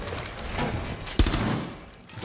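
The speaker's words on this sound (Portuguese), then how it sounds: "eu vou precisar dar uns tiros na parede aqui pra reacostumar de novo com o recorde" Gunfire from the video game Rainbow Six Siege shot at a wall, heard as a sharp burst over dense, noisy game sound that fades toward the end.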